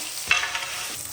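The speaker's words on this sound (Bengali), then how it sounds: "আর এখানে মাছ ভাজা চলছে," Fish fries in a pan with a steady, close hiss of sizzling oil, a brief sharper crackle near the start, no voices.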